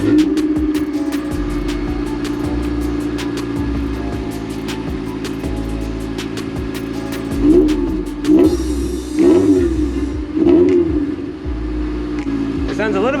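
A Honda D-series engine fitted with new headers and intake idles with a steady low rumble, then gets several short blips of revving near the end, fairly close.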